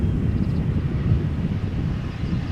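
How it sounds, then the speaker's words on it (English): An Embraer 175 airliner arriving from Manchester at Amsterdam Schiphol Airport gives a steady, broad low roar mixed with wind buffeting, constant in loudness and heard from a distance, with no talking. "Embraer 175 arriving from Manchester."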